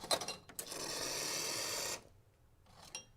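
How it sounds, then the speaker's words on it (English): A Rancilio Classe 11 espresso machine pulls a shot: a steady, close pump buzz runs for about a second and a half, then cuts off, with faint clicks before and after. "Today we are pulling the Cali Classic Espresso."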